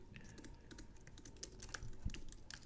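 Steady computer keyboard typing while code is written, a quick stream of soft key clicks with a few louder strikes near the end, close and without speech.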